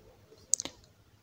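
A computer mouse clicks a few times in quick succession while navigating a software download page, sharp and close in an otherwise quiet room.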